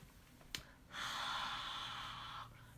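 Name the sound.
breathing warm air onto an inked stamp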